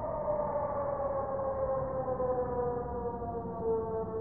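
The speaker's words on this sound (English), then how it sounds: "Air raid siren should have said" Air raid siren in the World War II video game Brothers in Arms: Hell's Highway, a steady sustained wail heard alone, slowly sliding down in pitch.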